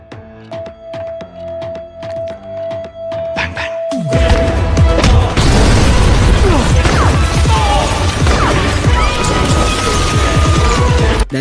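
Buildings blown up one after another in an action film scene, heard as a sudden loud burst of booming crashes and smashing debris that rumbles on after a lighter opening, with possible faint voices.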